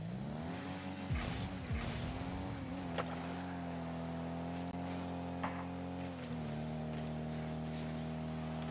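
Rocket League car driving with a steady engine drone and layered harmonic tones that rise and fall gently as it accelerates, plus a few brief bumps, continuous and close with no talking.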